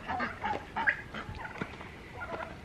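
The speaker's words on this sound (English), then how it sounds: "Oh, the turkeys are talking to us." Turkeys on a homestead calling outdoors, several faint, scattered gobbles and honk-like calls at a distance over low background noise.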